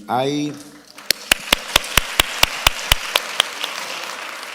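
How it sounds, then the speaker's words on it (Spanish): Audience applause rises after a short stretch of voice, breaking into about a dozen sharp, evenly spaced claps that ring out crisply and fade toward the end. "Por eso aplauden."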